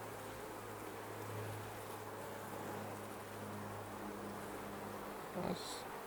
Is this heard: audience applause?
no